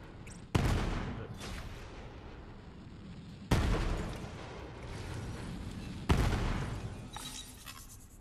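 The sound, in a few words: rockets being fired in the video game Borderlands 3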